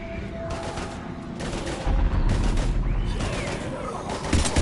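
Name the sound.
heavy gunfire in the video game Mass Effect 3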